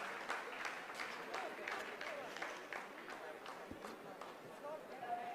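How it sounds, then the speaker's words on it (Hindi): Scientists applauding in the mission control room at the Chandrayaan-3 lunar landing, a steady dense wash of clapping that holds at a moderate, somewhat distant level throughout. "आप इस तालियों के गड़गड़ाहट को सुन सकते हैं"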